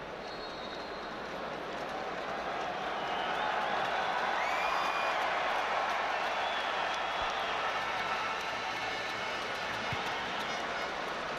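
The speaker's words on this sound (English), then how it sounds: "Big crowd in the Allianz Arena, one of the venues used in the 2006 World Cup" Big stadium crowd at the Allianz Arena during a 2011 Audi Cup football match between FC Barcelona and SC Internacional, a steady broad roar that swells toward the middle and then eases slightly, heard from a distance.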